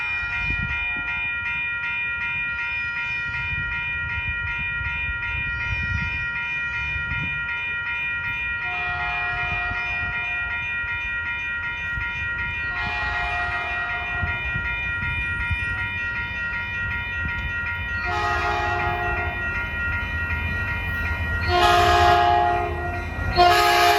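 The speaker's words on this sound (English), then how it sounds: "here comes 412, train 412. He'll be stopping here." Caltrain train 412 rolls into Burlingame station over a steady rumble, sounding its multi-tone horn in several blasts that grow louder and closer as it approaches, the last ones strongest.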